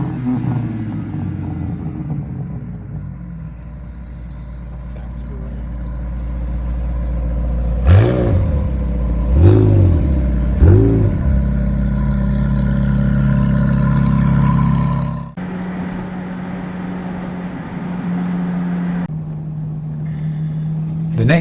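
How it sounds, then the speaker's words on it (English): Ferrari engines revving during a roadside rev competition, steady engine drone punctuated by three sharp rising revs mid-clip, then a shift to a higher sustained engine note, with voices faintly under it. "on the way back down, we decided to have a rev competition"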